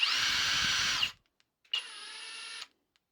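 FLEX cordless 1/2-inch impact wrench rated about 1560 Nm, revved at second and then third speed: two loud, sustained high whines, about one second each, separated by a short silence.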